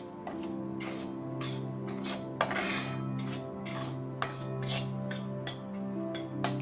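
Semolina dry-roasting in a pan, stirred by hand at low to medium heat, gives a steady scraping and clinking of the utensil against the pan, with a few sharper knocks, close up and with no talking.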